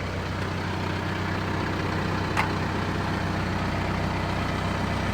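A tractor engine idles nearby with a steady low diesel rumble, constant and unchanging, with one brief faint high chirp partway through and no talking.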